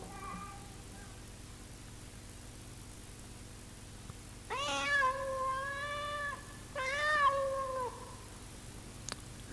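A domestic cat meows twice in drawn-out, wavering cries, fairly close and clear over a faint steady hiss, with a quiet pause before the first call.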